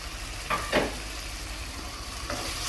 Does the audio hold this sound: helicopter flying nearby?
no